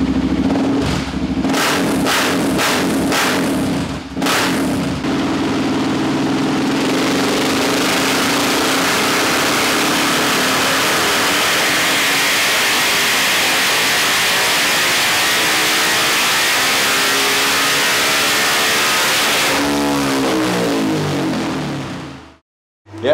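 A KTM 690 SMCR single-cylinder motorcycle revs on a dyno, with a few blips at first, then a sustained loud climb through the rev range that holds near the top before the throttle drops and the engine winds down.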